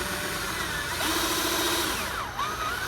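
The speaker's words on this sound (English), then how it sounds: "what we have here is just a standard, hole drill bit" A standard hole drill bit cuts through a plastic bucket to fit a half-inch PVC overflow pipe, a steady whining grind with the pitch sliding down and up as the bit bites, close and alone.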